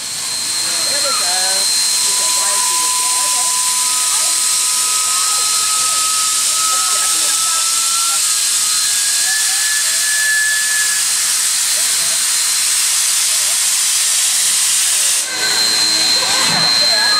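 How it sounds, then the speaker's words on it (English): A DD17 1051 steam locomotive at Roma Street station hisses with loud, continuous steam across the whole clip, along with faint whistle-like tones and distant voices on the platform. "This is Steam Train Sunday's first excursion from Roma Street"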